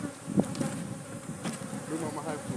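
A steady, dense buzz of many aggressive honey bees close by while a beekeeper works an active hive during the honey season, continuous and fairly loud with no talk.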